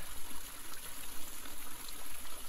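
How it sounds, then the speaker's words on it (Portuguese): Steady running water flowing and trickling in a continuous, even stream, quiet and close, used as the focus of a meditation practice; no voices. "o foco da prática será o som da água"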